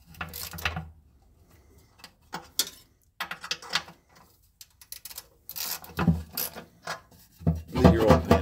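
Oil pan bolts on a 2007 Jeep Commander 2WD are run in by hand, with short bursts of close ratchet clicking and metallic rattles separated by quiet pauses; no voices.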